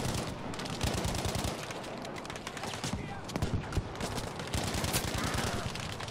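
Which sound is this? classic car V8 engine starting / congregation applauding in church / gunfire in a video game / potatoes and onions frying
gunfire in a video game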